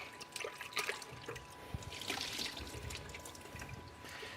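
Water splashes and trickles as the bowl of a Thermocook Pro M kitchen machine is rinsed, producing soft, uneven drips and sloshing that stay fairly faint and close.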